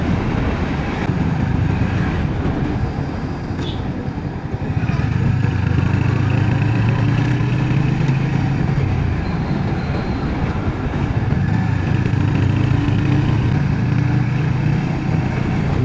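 A motorcycle rides along a road near Sakua Bazar on the way into Netrokona, its engine drone and wind rumble loud and continuous, swelling slightly midway and staying steady to the end.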